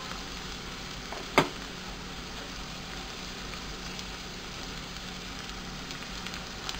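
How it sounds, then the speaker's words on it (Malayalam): Onion, carrot and chopped beans fry in a pan with a steady, quiet sizzle, broken once by a brief sharp clink or tap, with no talking. "ഉള്ളി ഏകദേശം ഗോൾഡൻ ബ്രൗൺ ആയി വരുമ്പോൾ അതിലേക്ക് ക്യാരറ്റ്, അരിഞ്ഞു വെച്ചിട്ടുള്ള ബീൻസ്,"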